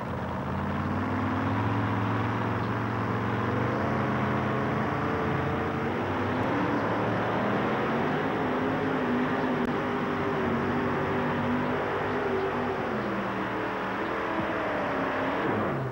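A Chevrolet two-wheel-drive pulling truck from Toy Trucking, weighing 6,200 pounds, roars at full throttle dragging a sled across an indoor arena, its engine note rising and wavering steadily and loudly throughout with no break.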